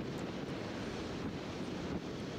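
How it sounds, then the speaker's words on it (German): Wind roars steadily across the microphone while riding a Honda Forza 350 scooter at about 80 km/h on a country road, a dense, continuous buffeting rush with no voices. "nur leider heute etwas Wind und der bläst einem doch gehörig um die Ohren"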